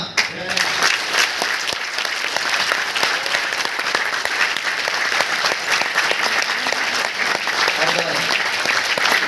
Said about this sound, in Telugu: మీరు మనస్ఫూర్తిగా చప్పట్లు కొట్టండి